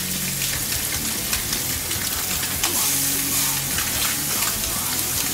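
Fish coated in a dry rub and pan-cooked blackened style, giving a steady, close sizzle and crackle from the hot pan that runs unbroken throughout.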